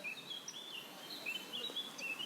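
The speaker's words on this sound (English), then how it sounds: "I hear birds." Faint birds chirp and tweet in scattered short calls through a quiet, soft ambient background, distant and continuous.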